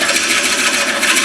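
A 12-inch red oak bowl spins on a wood lathe as a tool cuts it, giving a steady, close, loud scraping hiss with a faint rhythmic pulse from the turning blank.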